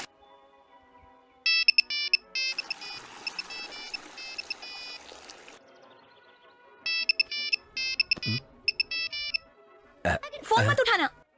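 A mobile phone ringtone plays in repeated melodic bursts, loud and close, with short pauses between phrases and a scuffle of noise near the end, in a dubbed Hindi action film scene.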